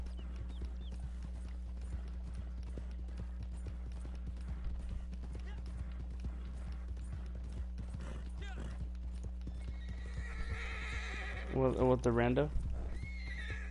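Horse hooves clip-clop steadily under people talking in the video game Red Dead Redemption 2, then a loud horse whinny rings out near the end.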